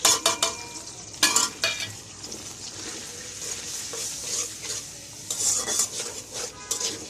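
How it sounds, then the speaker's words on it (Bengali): Spice paste for a spicy samosa filling fries and is stirred in a pan, with repeated scraping and clinking of a utensil against the metal over a steady close sizzle. "মশলাটা ভালো করে কষানো হয়ে গেছে।"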